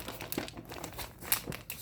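Paper outer sleeves for vinyl records are handled up close, giving soft, quiet crinkling and rustling with small sharp crackles scattered throughout.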